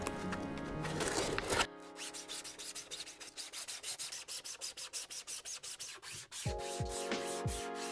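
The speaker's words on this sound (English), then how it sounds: "I'm actually gonna wrap this sanding sponge with a 220 grit, like so, and just go to town like this" A 220-grit sanding sponge rubs back and forth over a 3D-printed Green Goblin mask in quick, rhythmic strokes, close and fairly soft, after an initial burst of louder scraping.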